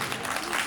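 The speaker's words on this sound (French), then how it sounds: "mesdames et messieurs, applaudissez pour la Donia." Brief burst of crowd applause at a customary and civil wedding celebration, dense clapping for under a second with voices mixed in.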